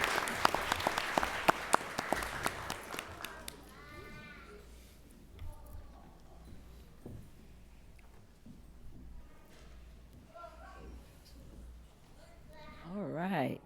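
Applause from a school board meeting audience for coaches and team members, dense clapping loudest at the start and fading into murmured talk and chatter, with voices heard over the tail.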